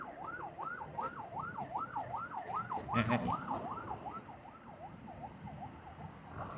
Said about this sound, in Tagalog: tabi mo tayong konti guys, yan, may ambulansya, no?